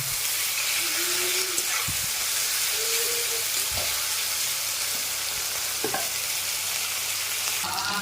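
Fish sizzles loudly and steadily in a pan of hot oil, a dense close crackling hiss with a few sharp knocks from a turner and faint tonal squeaks underneath.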